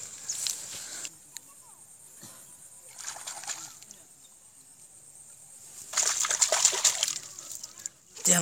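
Snails being rinsed clean in water in a village setting, with intermittent splashing and sloshing bursts separated by quieter pauses, moderately close, and a voice speaking between the washes.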